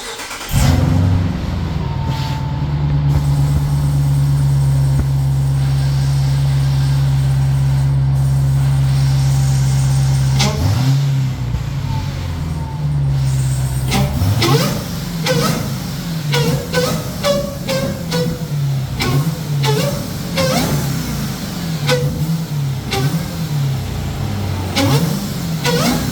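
A 2024 Dodge Durango SRT Hellcat fitted with a JLT cold air intake idles with a deep, steady rumble, then gets a run of sharp, loud throttle blips that rise and fall in quick succession.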